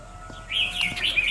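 A red-whiskered bulbul gives a quick burst of bright chirps and short warbling notes, fairly close and clear, over a quiet background with a faint steady hum.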